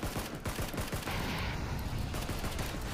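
Rapid bursts of video-game gunfire crackle densely and loudly throughout, a continuous fusillade of overlapping shots with no talk over it.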